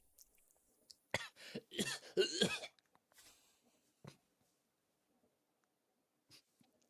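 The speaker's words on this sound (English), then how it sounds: "You will be having a massive coughing fit now." A person coughs in a short burst of harsh, close hacks, followed by a couple of isolated coughs and throat noises in an otherwise quiet room.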